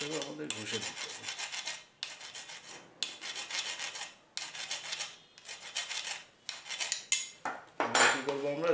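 Metal tube being filed by hand after reaming, heard as close, rasping strokes in quick repeated bursts with short pauses between them, scratchy and bright.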